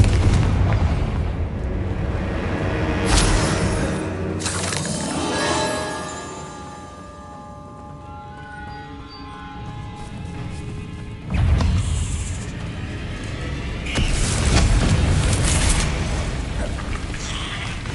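Confringo spell explosions in the game Hogwarts Legacy, several heavy booming blasts with crackling debris and ringing tonal effects between them, loud and close, with a couple of sharp hits near the end.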